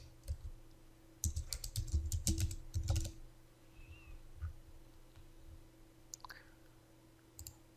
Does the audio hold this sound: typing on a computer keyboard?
yes